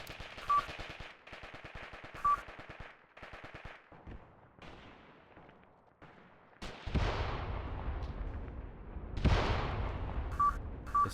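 Gunfire and mortar fire in the war game Mius Front: bursts of rapid automatic shots, then heavier booming blasts with long rumbling tails, loud and layered over each other.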